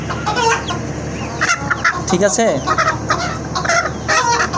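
Domestic chickens cluck loudly and busily at close range, with a rooster's crow-like call rising mid-way, while a person speaks briefly over the flock.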